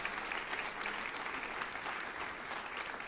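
A church congregation claps together in a dense, steady wash of applause that holds at an even level throughout, with no voice on top.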